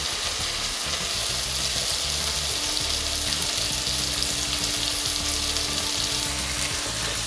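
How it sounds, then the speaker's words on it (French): Tomatoes, garlic and onions cooking together in a pan for Tunisian meat brik filling, a continuous even sizzle with soft scraping stirs throughout, no talking. "on va laisser cuire le tout 5 minutes ensemble"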